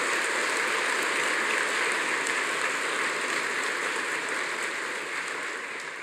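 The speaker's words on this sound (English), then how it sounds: "let's give the ceremony staff and the volunteers a big round of applause for their hard work and" Steady, dense applause from a large graduation ceremony audience, a hissing wash of many hands clapping at once that holds evenly and fades slightly near the end.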